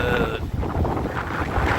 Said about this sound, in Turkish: Of rüzgar. Nefesimi kesti